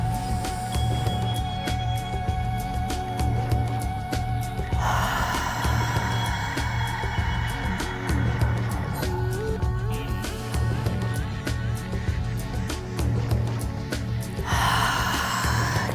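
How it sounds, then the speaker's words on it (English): During a yoga session, a person draws a deep breath in and then lets it out, a long airy inhale and exhale heard close and clear against a continuous background hum. "Big breath in."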